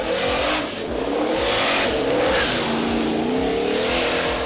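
A loud, close pickup truck engine, a Chevrolet Silverado on a drag strip pass, roars and revs hard, its pitch climbing steadily as it pulls away without a break, while it still has running problems.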